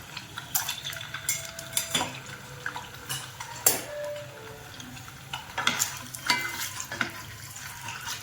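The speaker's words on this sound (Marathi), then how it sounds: "थोडीशी तेलात फ्राय करून घ्यायची आहेत अंडी।" Sliced eggs frying in oil for a spinach curry, with a soft sizzle broken by loud clinks and scrapes of a utensil against the pan and plate.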